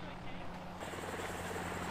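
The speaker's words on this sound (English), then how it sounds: "get ready, the helicopters come in for extract" Helicopter arriving for an extraction in the military game Arma, a low steady rotor drone that swells slightly louder partway through, fairly quiet and continuous under background noise.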